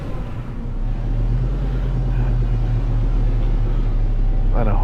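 A car engine hums and rumbles steadily at close range while being parked, a continuous low drone with little change in level.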